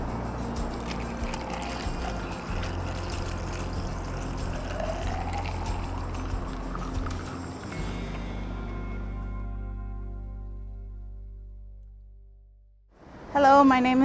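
Mamaki tea mixed with honey and lemon is poured outdoors into a container as a continuous liquid splash for about twelve seconds. The pour tapers off into quiet, then a voice begins speaking right at the end.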